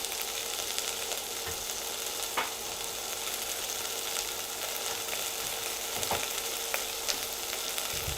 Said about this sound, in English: Get the onions cooking, we're just trying to take on a bit of colour.